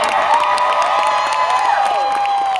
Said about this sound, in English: we have a lot of applause to give these ladies right now